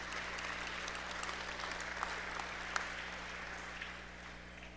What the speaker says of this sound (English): Give a round of applause to Wynn, please.